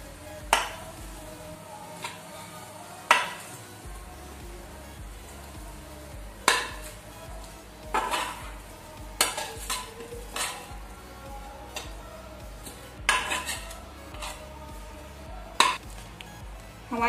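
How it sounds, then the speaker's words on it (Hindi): Maggi noodles are scraped from a pan onto a plate, sharp metal spoon clinks and knocks against cookware spaced out irregularly over a low steady background hiss, close and clear, with no speech. "प्लेट में निकाल लेंगे"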